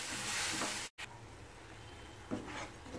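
Onion chutney frying in a pan, a steady close sizzling hiss broken by a brief gap, then continuing with a stirring scrape.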